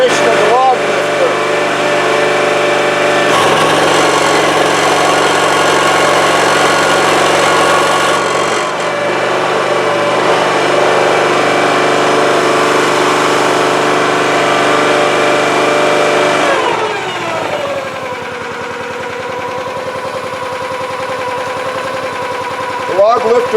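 A gas engine drives a Rugged Split 37-ton log splitter with its log lifter in use, a loud continuous buzzing drone that shifts in load and pitch partway through, with talk heard over it.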